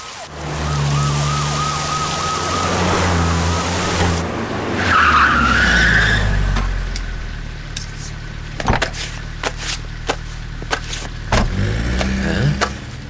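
Police vehicles arrive in a film scene, tyres skidding loudly before sirens wail up and down, followed by car doors and sharp knocks as the vehicles settle nearby.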